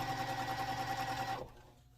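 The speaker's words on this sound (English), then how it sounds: "then I'm going to start sewing it together" A sewing machine stitches the seams of a sampler quilt block in a quick, even run of needle strokes, then stops abruptly near the end, leaving faint room quiet.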